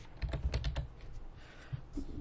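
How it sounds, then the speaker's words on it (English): Computer keyboard typing and mouse clicks during a Minecraft Big Dig mining playthrough, a burst of close, crisp keystrokes followed by a few scattered clicks over a low background hum, with no speech. "the keys and my mouse might be a little louder"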